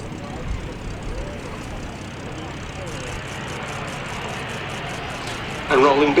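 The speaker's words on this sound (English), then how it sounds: "And rolling behind it, Boeing B-17G Flying Fortress Sally B." A Boeing B-17G Flying Fortress rolls along the runway at an air show, its propeller engines droning steadily at a distance under a broad wash of crowd and wind noise, with talk over it.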